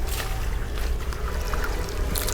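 AAC block pushed down into water during a field test comparing it with fly ash bricks, giving a steady close splashing and sloshing wash of water throughout, with no voices over it.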